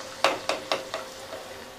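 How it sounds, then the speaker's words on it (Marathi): Puri sizzles in hot oil while a slotted ladle splashes oil over it, making four or five soft rhythmic splashing bursts that fade into a quiet bubbling fry. "पुरी तळत असताना त्याच्यावर असं झाऱ्याने तेल आपण जर टाकलं तर त्या छान फुलतात."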